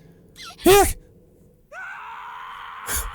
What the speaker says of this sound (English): The woman's screams are drowned out by my own.